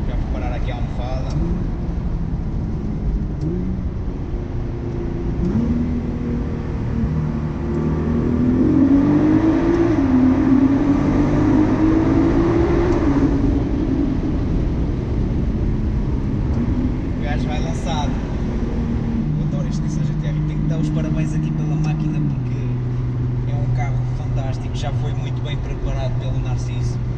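Tuned Nissan GT-R R35 with 631 hp and 858 Nm, engine droning steadily from inside the cabin while driving, rising in pitch as it accelerates midway, with someone talking over it throughout.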